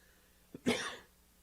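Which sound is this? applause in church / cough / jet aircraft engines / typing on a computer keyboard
cough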